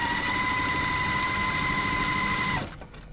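A sewing machine stitches quilt block pieces into rows for a nine-patch block, running in one steady continuous whir with a high mechanical hum, then stopping abruptly near the end.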